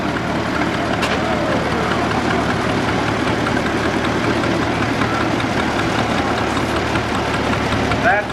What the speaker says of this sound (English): Milo built this tractor up pretty well from bits and pieces.